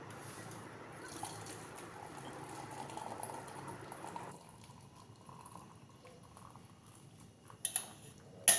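Hot tea being poured through a filter in a village home kitchen, a steady watery trickle and pour that runs for several seconds, then drops to a quieter dribble, with a few brief clinks near the end.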